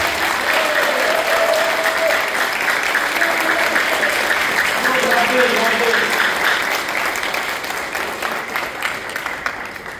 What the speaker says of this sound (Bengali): জোরে একটা হাততালি বাড়ান প্রোডাক্টের জন্য।